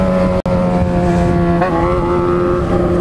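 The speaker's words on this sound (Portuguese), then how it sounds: "Estamos usando a moto conforme ela tem que ser usada." A Yamaha XJ6 motorcycle being ridden near a lake, steady loud engine hum with a clear constant tone, close and continuous with a brief dropout near the start.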